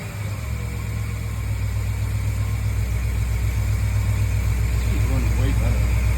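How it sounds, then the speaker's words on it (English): A Crusader 454 marine engine, under troubleshooting, idles with a steady, low, throbbing rumble and a constant mechanical hum. Voices can be heard nearby over the engine. "bring it down to idle"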